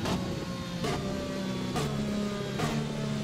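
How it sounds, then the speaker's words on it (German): A Formula 1 car engine in the F1 2020 video game roars continuously at Melbourne, broken by several sharp rev jumps as it shifts down through gears, steady and loud throughout. "Ich finde, dieses Runterschalten klingt auch böse."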